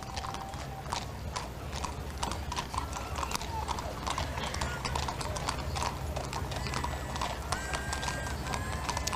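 Horses' hooves clip-clop steadily on pavement during a grand parade in Central Washington, many dancing horses stepping in dense overlapping rhythm, close and continuous with crowd and announcer voices underneath.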